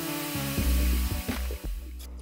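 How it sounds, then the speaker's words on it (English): Spindle sander shaping inside curves on wooden parts for a liquor cabinet with a tambour door, a steady close motor hum with rough sanding scrapes as the wood is pressed against the drum. "as well as the inside radiuses on the spindle sander"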